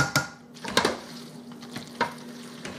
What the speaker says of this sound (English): Stir this up, let it melt.